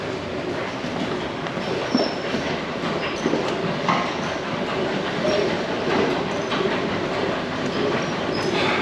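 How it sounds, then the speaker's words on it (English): Airport inter-terminal shuttle train at Gatwick running steadily, with a continuous rumble and rail clatter filling the whole stretch, with occasional faint squeals and knocks, no voices. "the train will drop you off at the South Terminal"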